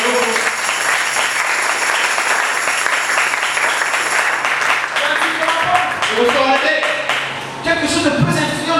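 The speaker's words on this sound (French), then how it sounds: "applaudissez pour le Seigneur." A church congregation applauding during a sermon, dense sustained clapping from many hands that grows more uneven toward the end, with voices calling out over it.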